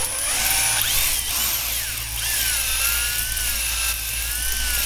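A drill spins a hone inside a 2002 Honda CR250 engine cylinder, giving a steady high whine with rising and falling pitch over a constant grinding hum that stays close and unbroken.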